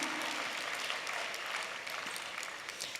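An audience claps for a few seconds, a soft, steady patter of many hands heard from a distance.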